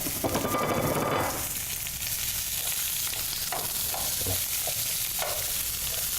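Onions fry in oil in a pan for lomo saltado, opening with a loud hissing burst as they hit the oil, then settling into a steady close sizzle with scattered stirring scrapes.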